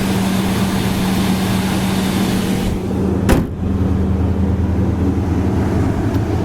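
A 1967 Plymouth Fury's 383 V8 engine runs steadily at idle, a loud, continuous low rumble with a brief sharp click in the middle and no talking.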